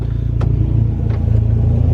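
A Toyota MR2's engine idles at a gas station, a steady close low rumble with a few faint clicks and clatters over it.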